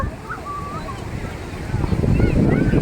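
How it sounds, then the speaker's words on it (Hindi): Ocean waves roll in on Baga beach in Goa, a steady rushing surf that swells louder toward the end, with wind buffeting the microphone. "और ये पूरी लहरें यहाँ से आती हैं और इसका ये पूरा ख़राब कर देती हैं।"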